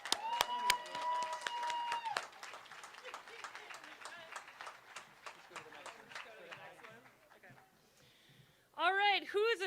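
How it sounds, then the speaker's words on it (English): A crowd claps in a dense, sustained round of applause, with cheering voices over it, fading toward the end before voices rise again. "Let's give them a round of applause."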